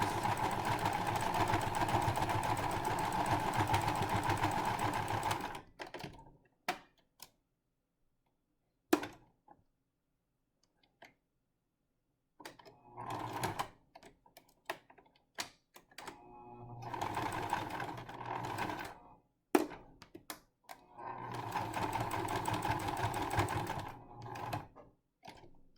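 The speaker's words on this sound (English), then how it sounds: "sew the ends together, backwards and forwards" Sewing machine stitching the ends of paracord together for a face cover cord lock, running in steady whirring bursts back and forth, with pauses, small clicks and handling noises between runs.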